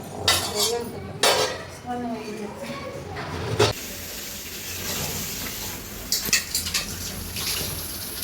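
Pots and dishes clink and scrape in a sink with running water and scrubbing, while a person talks at times over the clatter.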